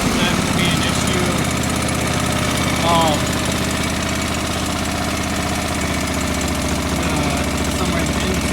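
A John Deere 445 lawn tractor engine running rich drones steadily at close range for the whole stretch, with a brief throttle swell near the start and a voice talking over it.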